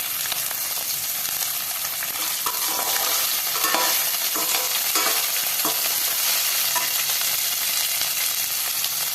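Sliced shallots and curry leaves fry in hot oil in a pan for a Tamil kadalai curry, giving a loud, steady sizzle with scattered stirring scrapes throughout and no voices.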